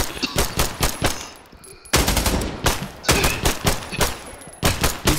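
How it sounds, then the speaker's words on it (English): Rapid bursts of AK rifle fire crack out in a kitchen during a video game firefight, loud, close and repeated, with brief gaps between the volleys. "These people just firing AKs in the kitchen, bro."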